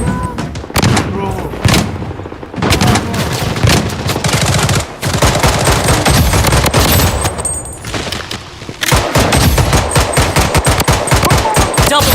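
Loud, near-continuous machine gun fire and rapid gunshots in the Blood Strike shooter game, sustained automatic bursts broken by short pauses over about twelve seconds.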